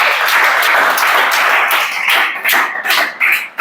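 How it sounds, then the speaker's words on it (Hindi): Loud, close clapping in a class, first as a continuous burst, then breaking into uneven separate claps with short gaps before stopping. "ताली बजाओ गूगल के लिए"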